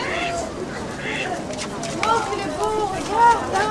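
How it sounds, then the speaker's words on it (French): Pigeons cooing among crowds at an outdoor poultry market selling geese, rabbits, quail and other fowl, soft repeated coos heard amid a busy babble of voices and people talking nearby. "Des pigeons,"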